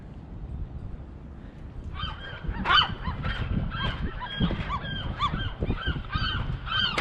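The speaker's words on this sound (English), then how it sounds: "A bird almost attacked me." A bird, heard near an Oregon coast dock at Sunset Bay State Park, gives a burst of loud, goose-like honks close by, followed by a run of repeated, fainter honking calls over low background rumble.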